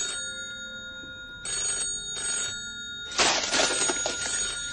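A telephone rings in loud electronic bursts, a short trill, a pause, two more bursts, then a louder, denser ringing near the end, heard up close with no talk.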